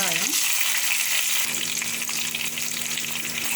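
Onions with dry red chillies, curry leaves and fenugreek sauté in hot oil in a pan for a gooseberry rasam, giving a steady, loud, dense sizzle with no talk; a brief rising scrape marks the opening.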